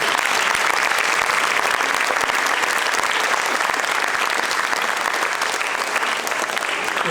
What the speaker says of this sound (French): je crois qu'on peut les applaudir également